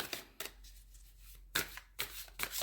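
A tarot deck is shuffled close by, with several crisp papery bursts of cards flicking together separated by short pauses.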